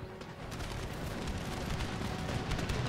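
Musket and cannon fire from a battle in the video game Empire Total War rolls on in a dense, continuous crackle of volleys with dull booms underneath, steady and moderately loud.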